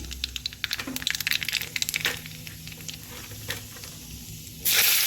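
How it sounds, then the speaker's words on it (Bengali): Nigella seeds hit hot oil left from frying chilies, bursting into a brief flurry of close crackles and pops that fades to a quieter sizzle before a louder hiss rises at the end. "ওই তেলেই আমি একটু কালো জিরে দিলাম"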